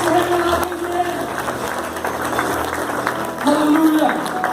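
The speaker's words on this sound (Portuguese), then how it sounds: "Se você puder aplaudir o Senhor" A church congregation claps together in a steady, moderate wash of applause, with a voice talking over it and rising briefly toward the end.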